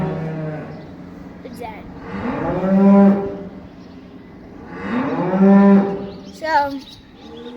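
Cattle in a farm pen low twice in long, loud drawn-out moos, with a quieter call between and brief speech near the end.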